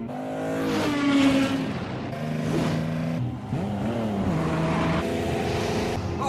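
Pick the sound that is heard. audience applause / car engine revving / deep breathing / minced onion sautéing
car engine revving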